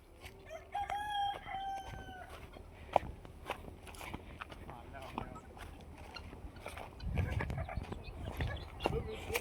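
A native-breed rooster crows once loudly near the start, followed by scattered clucks, scratching and footstep-like rustles nearby.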